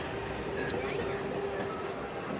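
Medinipur galloping local train rolling slowly through a station on the South Eastern Railway in Howrah district, a low steady rumble of wheels and carriages heard from inside with a faint thin squeal over it.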